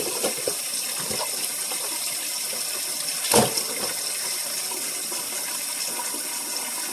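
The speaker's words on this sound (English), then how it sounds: "you can run some cold water just to loosen up the inside, make it easy to take out" Cold water runs steadily from a kitchen sink faucet, an even close hiss of flowing water with a brief knock or clatter midway and no talking.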